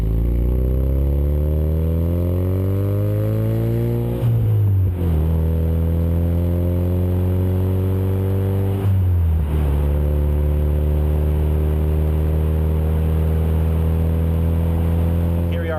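Ford Mustang EcoBoost with an MBRP Street cat-back exhaust, revved repeatedly: the engine climbs in pitch, drops back twice, then rises again, loud and close with no talk.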